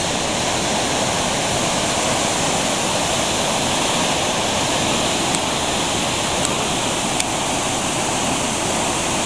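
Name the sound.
waterfall water hitting rocks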